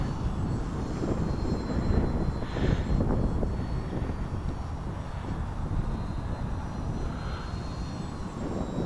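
A Hobbyking F4U Corsair RC warbird drones overhead with its electric motor and propeller under half throttle, a steady mid-distance buzz that swells and fades gently as it passes over open ground.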